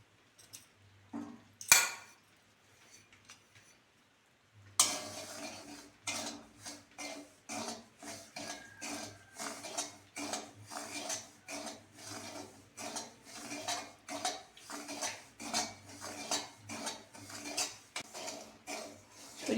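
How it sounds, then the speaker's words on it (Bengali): Semolina dry-roasting in a pan over low heat, stirred with a utensil: a steady run of scraping, rasping strokes in an even rhythm, close and moderately loud, following a sharp clatter and a near-silent pause. "সুজিটা হালকা আঁচে ভাজতে হবে, বেশি লাল হয়ে গেলে ভালো লাগবে না।"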